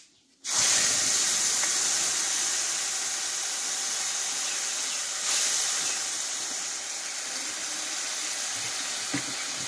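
Spice paste hitting hot oil with black cumin and asafoetida, erupting into a loud sudden sizzle that holds as a steady close hiss, easing slightly toward the end, with no talk.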